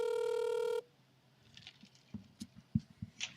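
A telephone ringback tone sounds once, loud and steady, on an outgoing call, then stops and gives way to faint handling clicks and rustles.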